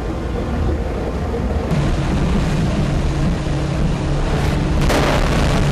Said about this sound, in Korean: 그런데 이때 갑자기 폭발음이 울리고 지켜보던 작업자가 달려간다.